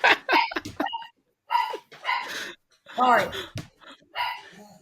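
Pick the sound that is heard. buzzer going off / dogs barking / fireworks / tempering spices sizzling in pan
dogs barking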